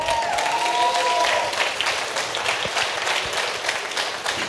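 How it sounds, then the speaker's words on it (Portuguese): An audience in a church service breaks into applause, a dense, loud wash of clapping from a large crowd that keeps up steadily throughout, with a faint voice or cheer near the start. "Vamos aplaudir o nome dele?"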